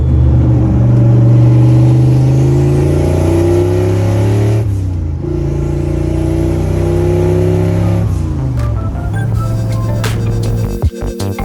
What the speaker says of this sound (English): Car seems to be warming up great.